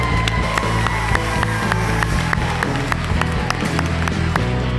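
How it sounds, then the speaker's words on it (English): A crowd claps for a fishing team at a Mississippi River tournament weigh-in in Vicksburg, a steady run of sharp, overlapping hand claps with some cheering, fairly loud and close. "Make sure everybody give these guys a big round of applause"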